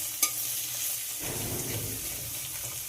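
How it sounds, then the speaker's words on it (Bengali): Garlic and chopped onion frying in a pan give a steady, moderate sizzle with a brief clink near the start, like a utensil against the pan, and no one speaking. "পেঁয়াজ আর রসুনটাকে একটু ভেজে নিতে হবে।"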